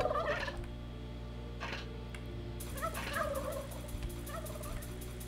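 Poultry in the fantasy management game Dungeons 3 call out in short, warbling bursts, several separate calls repeated over a constant low hum of game ambience.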